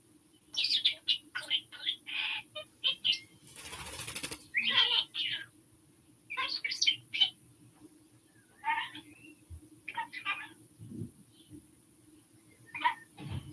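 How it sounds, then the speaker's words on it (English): Scattered bird chirps and short calls from several birds outdoors, bursts of tweeting separated by pauses, with a low steady hum underneath. "you can still hear the birds outside"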